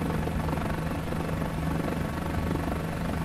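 A Guimbal G2 helicopter in Microsoft Flight Simulator 2020 produces a loud, continuous rotor and engine drone with a steady low throb, heard alone.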